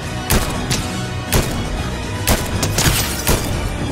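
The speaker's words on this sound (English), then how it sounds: "I hear gunshots." Rapid gunfire bursts from a Fortnite Chapter 4 build fight, several sharp loud cracks spaced irregularly over a dense game soundscape, with no talk.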